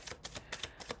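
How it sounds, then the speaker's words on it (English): Tarot cards are shuffled by hand in quick soft riffles and slaps, a brief run of about half a dozen papery clicks close by and fairly quiet, with no talking. "in addition to just shuffling like this"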